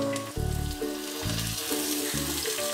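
Chicken pieces and onions fry in a pan with salt, a steady hiss running beneath louder background music with sustained low tones.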